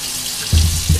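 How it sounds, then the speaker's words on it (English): Water running from a kitchen faucet over muddy work boots during cleaning, a steady rushing flow that swells louder partway through and again near the end, with no talking. "Get the water going."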